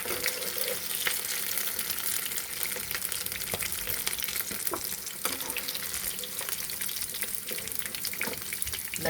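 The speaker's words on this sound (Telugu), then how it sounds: "ఇటువైపు కూడా ఎర్రగా ఇలా వేగాలి" Chicken pakodi deep-frying in oil gives a continuous dense bubbling crackle with scattered sharp pops, steady and close throughout.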